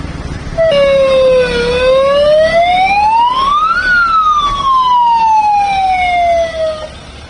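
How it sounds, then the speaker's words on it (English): Air raid siren sounding in Chandigarh, a loud rising and falling wail that climbs for about three seconds and then slowly descends, with a rich stack of harmonics over a low background rumble. "sirens being sounded there in Chandigarh"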